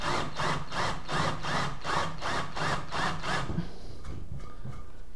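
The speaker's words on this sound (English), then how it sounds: "So let's continue with the countersinking." A drill bores a countersink for a screw head into styrofoam, building a hot wire cutter: rhythmic, repeated rasping strokes for about four seconds, close and steady, then the cutting stops.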